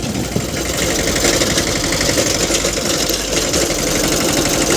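A tractor runs a rotavator working six finger-widths deep, a loud, continuous mechanical engine drone with a steady rumbling vibration throughout and no speech.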